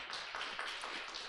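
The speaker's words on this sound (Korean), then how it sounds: "아이고 윤덕중 집사님 박수해 주세요." A church congregation gives a brief, soft round of clapping during a Sunday thanksgiving service, a quick patter of hand claps heard from some distance.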